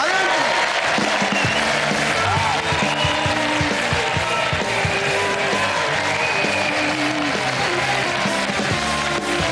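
A studio audience at a comedy gala gives loud sustained applause mixed with crowd noise and a murmur of voices as guests are welcomed on stage, dense and continuous throughout.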